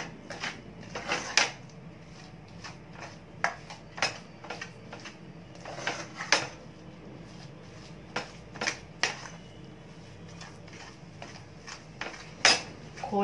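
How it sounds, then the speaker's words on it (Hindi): A metal spoon scraping and clinking against a pan as khoya mixture is stirred into peas and coconut for pede, with irregular sharp taps and scrapes over a quiet background. "पहले थोड़ा ऐड करेंगे और इसे मिक्स कर देते हैं अच्छी तरह से।"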